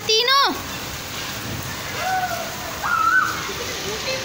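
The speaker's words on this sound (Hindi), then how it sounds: "इतनी जो है ना मतलब तेज़ी से हो रही है ना बारिश" Heavy rain pours steadily outdoors in Karachi, a continuous close hiss and splatter that lasts throughout, with a brief voice near the start and faint tonal sounds in the middle.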